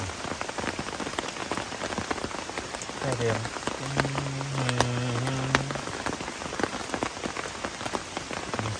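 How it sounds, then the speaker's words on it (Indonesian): Heavy rain drums steadily on a tent pitched on a camping spot on Mount Slamet, a dense constant patter throughout, with people talking briefly and some tonal murmuring over it midway. "Hujan lagi."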